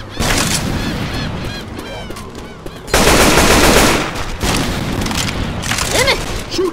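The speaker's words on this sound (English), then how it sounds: "Shoot that zombie in the back." Rapid gunfire from firearms shooting zombies in the video game Left 4 Dead 2, loud bursts of automatic shots with a heavier blast around midway, continuous and close, with no speech over it.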